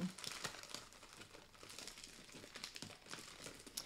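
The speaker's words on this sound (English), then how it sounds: "I'm going to be crinkling a lot of cellophane." Cellophane packaging from a stamping-supply catalog pre-order haul crinkles and crackles steadily at close range, quiet and continuous with small sharp peaks and no talking.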